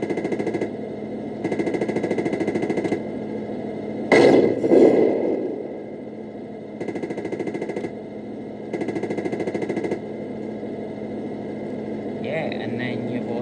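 Machine gun sound effect from a Tamiya 1/16 Centurion RC tank: several rapid, rattling bursts of a couple of seconds each, separated by pauses over a steady electronic hum, with a brief louder clatter in the middle.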